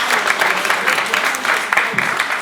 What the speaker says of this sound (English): 1 is a round of applause